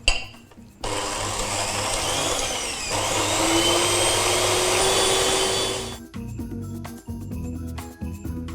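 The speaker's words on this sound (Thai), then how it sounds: "ดังนั้นเราก็เลยต้องตีตัวไข่ให้มันฟูก่อนค่ะ" Electric mixer whipping egg whites for a vanilla chiffon cake, a steady loud whirring motor drone running continuously for about five seconds, then cutting off abruptly, with no talk.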